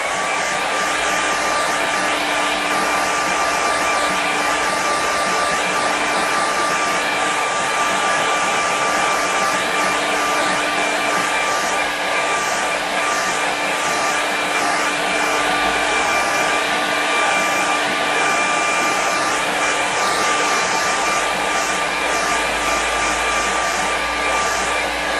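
A hair dryer blows steadily on a wet watercolour seascape painting to set the paint, a loud, continuous whooshing hum running unbroken from start to finish with no talking.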